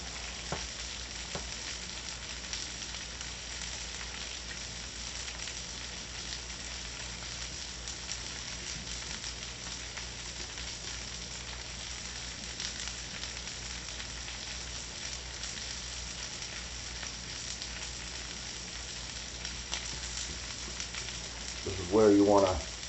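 Eggs cook in a frying pan while being stirred, giving a quiet steady sizzle across the whole stretch that ends in a brief louder scrape of the utensil against the pan.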